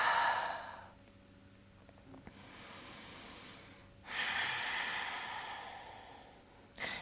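Close, airy yoga breathing during a hatha flow: a long exhale, a softer inhale, then a stronger breath out, each lasting a couple of seconds with little else audible.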